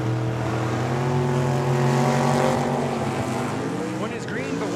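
Drag-racing cars, including a Camaro, run at Tucson Dragway with a sustained loud engine drone and rising, shifting pitch tones that fade toward the end, set against a distant crowded-track ambience.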